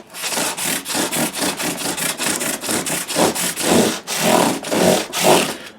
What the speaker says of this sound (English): here's our first use of the scrub block with the 400 grit to just get rid of those minute marks